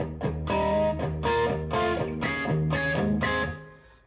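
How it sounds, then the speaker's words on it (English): Electric guitar played through an Ibanez Tube Screamer overdrive pedal, strummed chords ringing with low-level gritty breakup in a steady rhythm, loud and close, fading at the end. "It's kind of a low level distortion breakup"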